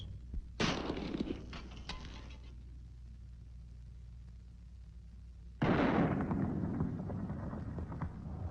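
Two loud gunshots fired at a can and a block, the first a sharp crack followed by a brief rattle of debris, the second about five seconds later with a longer rumbling decay, no talk.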